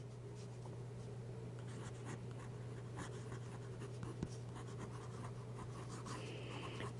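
A TWSBI 700 fountain pen writing on paper, giving a faint, continuous scratchy nib sound with small strokes over a low background hum.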